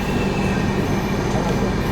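The Tirupati–Puri Express, an LHB-coach train, runs at Singarayakonda station with a steady loud rumble of wheels and carriages close by, continuous and unbroken.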